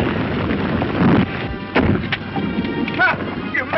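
Gunshots from an old film fight with a caravan, a few dull booming reports spread across the moment over a steady noisy background.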